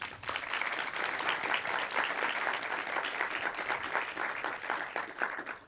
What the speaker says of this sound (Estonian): Teeme suure aplausi kohtunikele.